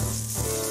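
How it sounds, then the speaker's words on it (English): Food sizzles in a frying pan during an occult potion-brewing game, a steady close frying hiss with a short dip midway before the sizzle resumes, no voices. "Stir the contents of the frying pan."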